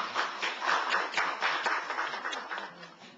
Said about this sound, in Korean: 박수로 맞아주시고요